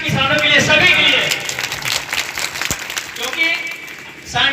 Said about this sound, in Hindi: पहले तालियां आप सांडी ब्लॉक के किसानों के लिए, सभी के लिए